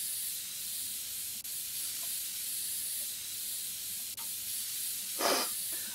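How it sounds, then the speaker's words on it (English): Spray can dusting a dusty PC in PC Building Simulator: a steady background hiss, then one short burst of spray near the end, with a couple of faint clicks earlier. "let's get the spray can out and start dusting."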